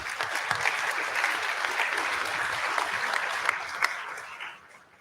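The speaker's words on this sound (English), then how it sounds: "Give him a round of applause, please" Audience applause welcoming a speaker at a university conference session, a steady crowd clapping that holds for several seconds and then tapers off near the end.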